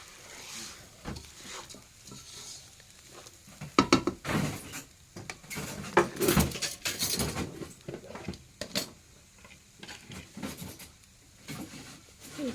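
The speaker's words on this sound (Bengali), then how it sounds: "সব কিছু এখন একসাথে নেড়ে ছেড়ে" Chopped potato, carrot and yardlong beans stirred together in a pot for khichuri, with irregular clattering and scraping of a utensil against the metal, moderately close and continuing throughout without speech.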